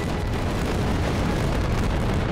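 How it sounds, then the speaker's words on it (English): Explosions in the World War II video game Easy Red 2, set on Omaha Beach and at Stalingrad, make a dense, continuous booming roar of loud, rumbling blasts that overlap without pause. "Another day with explosions."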